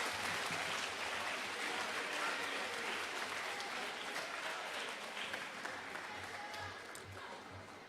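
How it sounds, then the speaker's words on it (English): A school audience at the 2021 Lakota Middle School awards ceremony gives teacher award winners a long round of applause, loud and sustained at first and then slowly thinning and tapering off. "let's give them and all of our individual teacher award winners a big round of applause"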